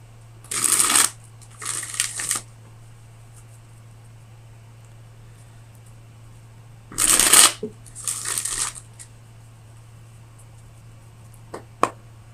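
Tarot cards shuffled in four quick riffling bursts, each a second or so long in pairs separated by a pause, crisp and close against a low steady hum, ending with a small tap.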